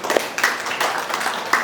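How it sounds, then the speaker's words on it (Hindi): Audience at a devotional talk in honour of Lord Krishna clapping for Prince Prabhu, a few loose bursts of claps close by that fade and rise over a short stretch. "प्रिंस प्रभु के लिए तालियां बजाइएगा।"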